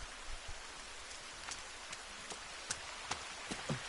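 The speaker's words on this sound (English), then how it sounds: "I guess technically it's still raining?" Rain in The Forest video game, a soft, faint patter of drops with scattered sharper ticks landing on surfaces, no talking.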